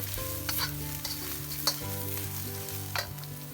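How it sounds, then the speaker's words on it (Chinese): Fried shrimp are stirred without pause in a hot wok, with steady oil sizzle and scraping turns of the spatula, close and continuous, over a faint tonal background. "倒入炸好的大虾， 然后不停地翻炒"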